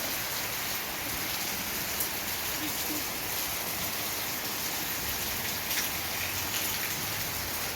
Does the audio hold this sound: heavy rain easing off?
yes